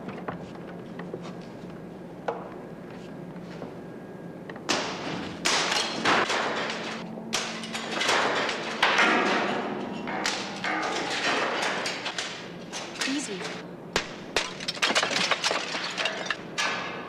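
Glass being smashed with heavy thuds, starting with a quiet lead-in, then a burst of loud impacts and splintering, clinking shards over the following seconds, repeated hits close by.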